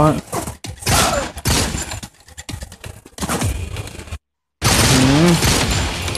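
Gunfire in the first-person shooter Modern Combat 4: Zero Hour, loud rapid bursts and volleys of shots in the foreground, with a voice talking excitedly over parts of it.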